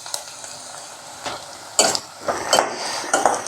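Onions fry in a pan for a Tamil dried-fish curry, crackling and sizzling while a spoon scrapes and stirs in several quick, close strokes against the metal.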